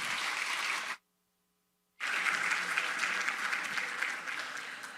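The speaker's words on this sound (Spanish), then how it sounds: "Por favor, un aplauso y cerramos esta conversación." A conference audience applauds after a panel discussion, with steady clapping from a room full of people, cut by a brief full silence before the applause resumes and continues at moderate volume.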